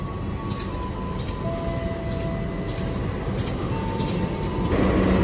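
A Kahuripan passenger train rumbles steadily onto track 2 at Kutoarjo station with a low continuous roar, faint metallic squeals and periodic clicks, growing slightly louder toward the end.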